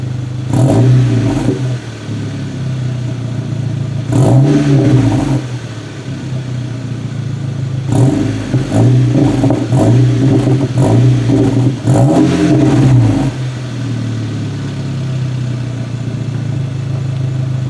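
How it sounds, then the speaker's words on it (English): A cold VW GTI with a newly installed exhaust revs in several blips above a steady rumbling idle, each rise loud and close, with no voices over it. "It's cold. I'm not going to rev it too much."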